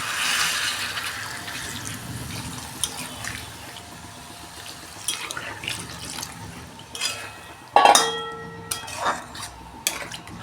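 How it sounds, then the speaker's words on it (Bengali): Hot water pours into a pan of soybean curry, a splashing gush near the middle set among softer clinks and stirring noises from a home kitchen. "আমি এটা গরম জল দিচ্ছি।"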